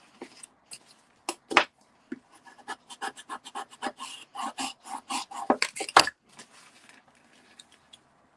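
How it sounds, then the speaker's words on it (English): Bone folder rubbed firmly over card for a handmade Christmas card, making a run of dry scraping strokes that start sparse, quicken into a dense rhythmic series, then taper off, close and alone. "So I'm just giving it a good run over with the bone folder."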